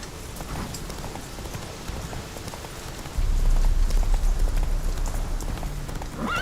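Horse hooves clip-clop steadily across ground in The Witcher, a continuous mid-distance trotting rhythm over ambient noise that grows louder and heavier halfway through.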